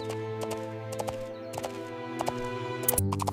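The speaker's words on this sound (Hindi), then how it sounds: "The donkey is walking." A donkey walks with a steady clip-clop of hooves, even and fairly close, over a sustained tonal drone of background music.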